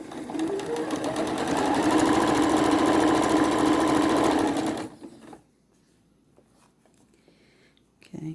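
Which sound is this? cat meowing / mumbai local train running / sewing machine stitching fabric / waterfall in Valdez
sewing machine stitching fabric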